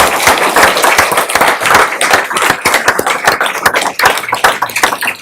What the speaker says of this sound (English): let's give these students another round of applause